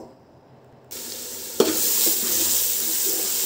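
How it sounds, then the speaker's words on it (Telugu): Chili powder, turmeric and rock salt hit hot oil for a hotel-style chicken biryani: silence breaks into a sudden close sizzle, a spoon clunks against the pot, then steady hissing and stirring follow. "ఇదంతా జస్ట్ ఒకసారి కలిపితే సరిపోతుంది నూనెలో"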